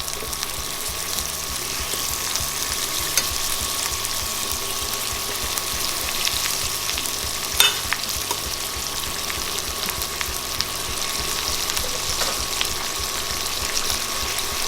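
Prime rib roast searing in butter in a hot pan, a continuous hissing sizzle with a few sharper pops, steady and close with no voices.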